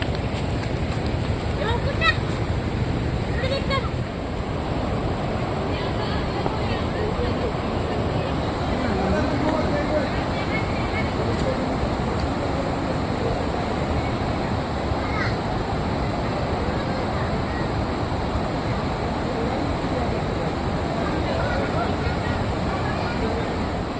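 Seetharkund waterfall near Kollengode, Kerala: a steady, loud broadband roar of rushing water, continuous and unbroken throughout with no clear voices on top.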